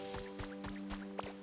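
Watering trees in the Pokémon game Pokopia near a beach: soft wet splashing and dripping pulses repeat at an even pace, layered over a steady sustained musical tone.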